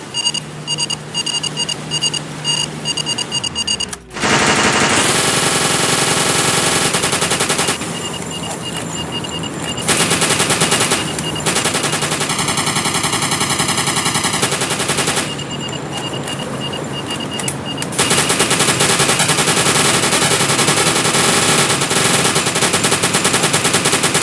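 Sustained automatic gunfire from the UBOAT submarine video game, anti-aircraft guns firing at aircraft in long continuous bursts with short gaps, loud and dense, alongside steady game beeps.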